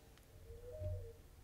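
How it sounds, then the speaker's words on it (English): An owl just outside a window gives a soft, low, brief hooting coo, faint and muffled over quiet room hiss. "it sounds like there's an owl right outside of my"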